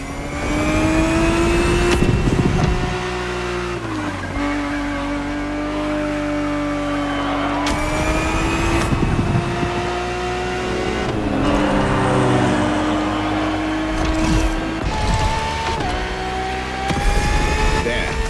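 Engine of a Ferrari 365 GTB4 racing in The Crew Motorfest, a loud continuous drone that climbs and drops through repeated gear shifts, with brief tire noise at corners.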